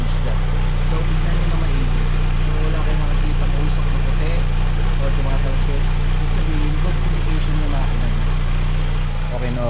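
A car engine idles loudly and steadily close by, a constant low mechanical rumble with faint ticking, under occasional indistinct talk; the exhaust drips water but shows no white smoke.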